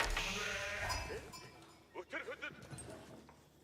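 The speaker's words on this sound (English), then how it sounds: "I hear some sheep being collected." Several short sheep bleats from Age of Empires 4 come in quick succession after a stretch of louder ambient noise, fairly close and clear.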